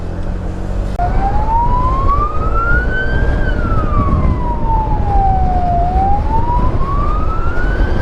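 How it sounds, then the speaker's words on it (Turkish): A loud police siren wails, rising and falling slowly, over steady road and engine noise. "Sirenler açık. Millet yol vermiş."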